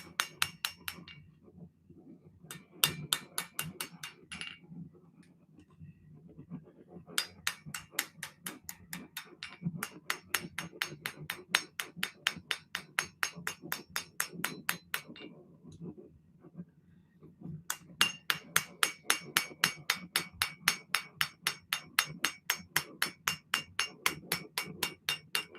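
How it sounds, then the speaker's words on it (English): A hammer lightly taps metal to straighten and burnish it, striking in long, rapid, even runs of crisp ringing blows, close and clear, separated by brief pauses. "You're just light tap. Just what they call like burnishing. You're just taking the real roughness off."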